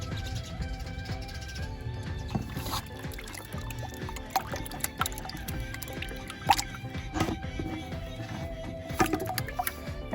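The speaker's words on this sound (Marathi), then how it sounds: "ह्या पद्धतीनं चिकातलं सगळं पाणी व्यवस्थित ओतून घ्यायचं." Water poured off settled wheat starch in a container, soft irregular drips and trickles with small splashes and faint clinks, fairly quiet and close.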